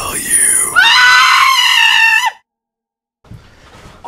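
A person lets out a loud, prolonged shrill scream in a horror movie teaser, lasting about two seconds before cutting to near silence, followed by faint low sounds.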